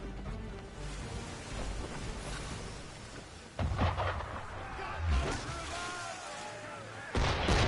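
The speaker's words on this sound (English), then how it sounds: "Why is he shooting at us?" Gunfire in Assassin's Creed III, set in colonial-era surroundings: booming musket-like blasts at about 3.6 and 5.1 seconds and a third near the end, over a rumbling, noisy game ambience with voices underneath.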